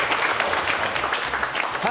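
A studio audience claps in a dense burst of applause, with voices talking over it.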